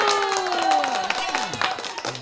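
Hosts clapping during a live cruise chat and Q&A, a short burst of close hand claps mixed in with their talking and cheerful voices.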